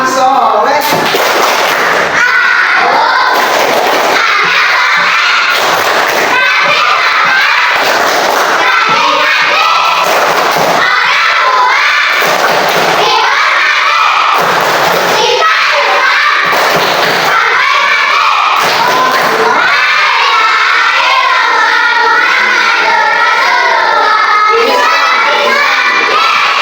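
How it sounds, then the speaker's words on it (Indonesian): A classroom of children performing the 'tepuk anak soleh' clapping chant, loud rhythmic group clapping in repeated bursts with shouted chanting voices over it throughout. "kita tepuk anak soleh dulu ya"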